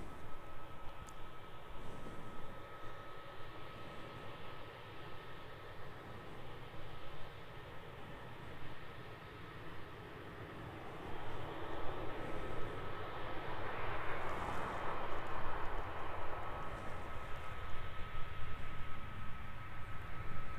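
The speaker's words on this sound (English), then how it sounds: "NZ 653 coming in from Christchurch, Air New Zealand A320." An Air New Zealand A320 arriving at alpine Queenstown Airport produces a broad, steady engine roar heard from a distance, with a thin sustained whine over it, swelling gradually louder toward the end.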